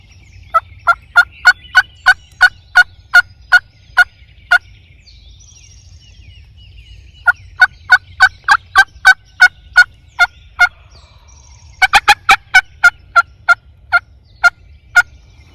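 Wild turkeys gobbling outdoors during a hunt, a long series of sharp, rapid, rattling calls in bursts with a quiet pause between, fairly close and loud over a low background rumble.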